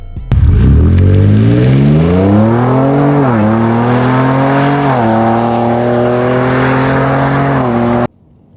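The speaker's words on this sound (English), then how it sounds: "A twin exhaust system that sounds like this." A Ford Ranger Raptor V6 with a twin exhaust system starts and revs hard. The loud, close engine rises in pitch, then holds a steady growl with small swells before cutting off sharply.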